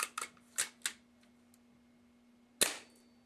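Snow Wolf M99 airsoft sniper rifle, with a few sharp mechanical clicks and then a single crisp, close snap of the shot, fairly quiet over a faint steady hum.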